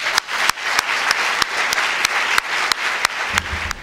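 A conference audience applauds the Prime Minister with sustained clapping from a large crowd, punctuated by several sharp, loud individual claps close by.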